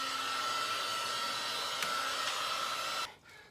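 A heat gun blows steadily on a Jeep JL Rubicon axle's CV boot while an RCV Performance axle is installed, a loud, even hiss with a faint whine that runs unbroken for about three seconds before cutting off.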